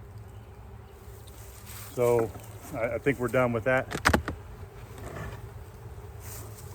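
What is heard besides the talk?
honeybees buzzing at an opened hive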